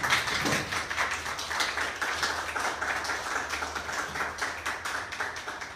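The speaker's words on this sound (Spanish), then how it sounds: "Les pido por favor un aplauso para nuestro invitado" Audience at a conversatorio applauding their invited guest: fairly quiet, steady clapping from a modest crowd in a room, individual hand claps distinct in an even patter, with a low hum underneath and no speech.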